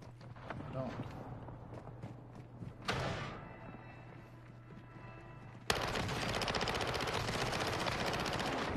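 Video game gunfire crackles in rapid bursts, first faint and scattered under chatter, then a dense, loud sustained volley of shots fills the final seconds while people talk.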